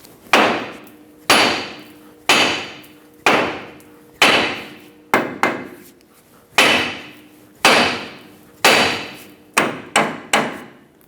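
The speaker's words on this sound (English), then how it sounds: "now we're going to use a hammer, tap the knuckle right here." Hammer blows ring out on a steel steering knuckle of a 2000-2005 Ford Excursion to free the ball joint stud, about a dozen sharp, loud metallic strikes in uneven groups, each with a brief ringing decay.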